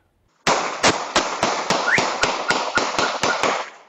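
Gunshots recorded by a home security camera in a residential neighborhood on San Antonio's Southside, a rapid string of about a dozen sharp, loud bangs at an even pace over a few seconds.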